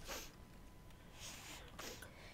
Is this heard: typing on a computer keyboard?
no